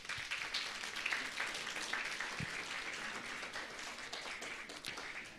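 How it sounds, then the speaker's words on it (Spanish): A church congregation at a Father's Day evening service applauds the fathers with sustained, even clapping from many hands. The applause sounds moderately distant and fills the room without pause. "por favor vamos a dar fuertes aplausos aquí a todos los papás que nos están acompañando"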